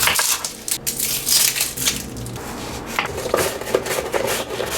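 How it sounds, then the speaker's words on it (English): An onion is sliced on a mandoline slicer, giving rapid, close, crisp scraping and crunching strokes in an uneven rhythm with no talking. "I'm just going to slice up this onion with a mandolin"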